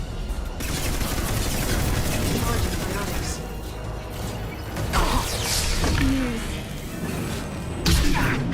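Heavy weapon fire and crashing impacts in the Mass Effect 2 video game, a dense, loud stretch of blasts and explosions with scattered louder hits, under anxious talking.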